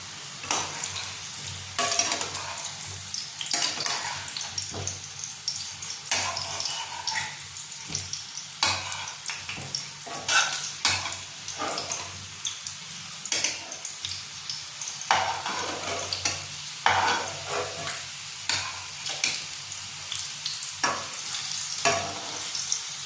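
Potato pieces frying in oil in a pan over the flame, a continuous crackling sizzle broken by repeated scraping stirs of a spatula against the pan, close and fairly loud with no talking.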